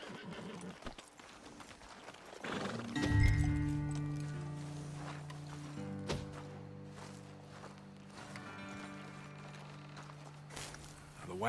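Horses whinny loudly in Red Dead Redemption 2, a long drawn-out neigh followed by softer snorts and scattered hoof clops at moderate distance, with faint ambient background throughout.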